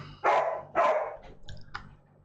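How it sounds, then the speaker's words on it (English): A dog barks twice in quick succession, close and loud, followed by a few faint clicks and light rustling indoors. "That's just my dog."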